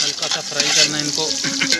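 White chickpeas frying lightly in a pot with onion and spices: a close, busy sizzle with stirring scrapes, brief and continuous.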